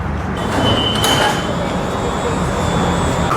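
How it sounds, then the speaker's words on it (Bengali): Tram arriving at a station in Dubai, a steady low rumble and wash of noise with a faint high whine, heard from nearby with no talking. "ট্রাম ঢুকছে এদিকে"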